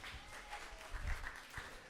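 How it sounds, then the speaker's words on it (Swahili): A church congregation claps together, a faint, distant patter of hands in loose rhythm. "Pigie Bwana makofi."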